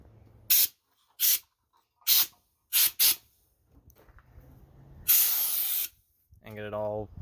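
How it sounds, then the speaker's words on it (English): Compressed air blowing dust out of a pickup truck's windshield frame during a leak repair: five short, loud hissing bursts, then one longer blast, with speech heard in the clip. "compressed air"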